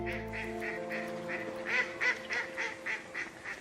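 Several ducks quack in a rapid series of short nasal calls, fairly close and clear, following a sustained low honk-like tone at the start; no speech.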